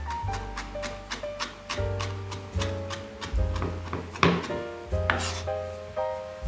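A knife chops shallots on a board in a steady run of sharp, close strokes, repeating quickly and evenly over background music.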